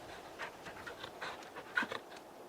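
A dog panting in the video game Final Fantasy 16, soft quick breathy pants in a faint rhythmic run with a small whimper near the end, heard alone.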